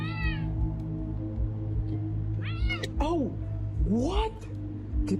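A tense house cat meows repeatedly and lets out drawn-out, wavering caterwauls, close and loud over a steady low hum, with a voice talking softly in between.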